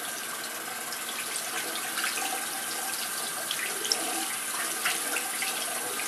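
Tap water runs steadily into a sink during rinsing off shave soap, a constant close hiss with small splashy fluctuations and no talking.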